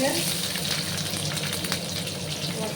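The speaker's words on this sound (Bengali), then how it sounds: "ভালো করে একটু পেঁয়াজগুলোকে ভাজা ভাজা করে নেব, লাল লাল করে।" Chopped onions and garlic fry in hot oil in a pan, a steady, dense sizzle with occasional stirring scrapes, close and continuous throughout.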